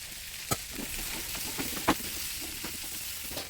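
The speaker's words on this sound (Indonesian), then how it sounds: "Kita masukkan ayam yang tadi sudah digoreng dengan mentega." Chicken that was fried in butter sizzles steadily in a pan of browned onions, with scraping stirs and a couple of sharper clacks of a utensil against the pan, close up and without voices.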